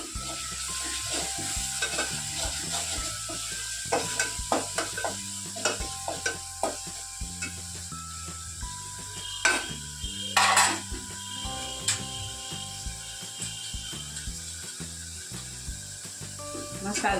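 Tomato and onion masala with a spoon of coriander-cumin powder is stirred in a pan for a Kathiyawadi moong curry, frying with a steady sizzle under irregular spoon scrapes and clinks against the pan, close and fairly loud, with no talk.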